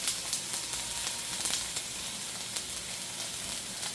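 Olive oil sizzling in a hot pan while cooking portabella mushrooms and picanha steak, a constant crackling hiss with scattered sharp pops, close and fairly loud throughout.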